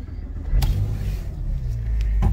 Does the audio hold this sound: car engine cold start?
yes